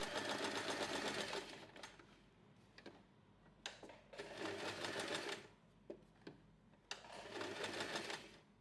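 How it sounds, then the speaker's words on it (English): A sewing machine stitches along the rounded edge of a small fabric snap wallet keychain, running in several close bursts of steady rapid whirring with brief stops and clicks between them. "Sew along the rounded edge, leaving the top side open so we can turn it."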